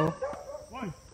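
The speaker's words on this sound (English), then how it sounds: "Hey, he's barking at me." A dog gives a couple of short barks and yips at moderate distance, quiet, with a brief voice mixed in.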